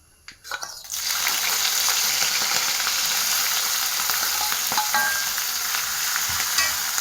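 Ginger and green chilies hit hot coconut oil with a sudden loud sizzle after a quiet start, then a steady close frying hiss with occasional light stirring clicks throughout.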